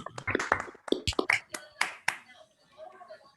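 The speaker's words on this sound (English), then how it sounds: "Maybe we can clap first" A small group claps after a seminar talk on a Zoom call, sparse, uneven claps that fade within a few seconds, with a voice speaking over the end.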